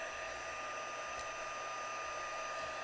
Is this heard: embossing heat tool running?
yes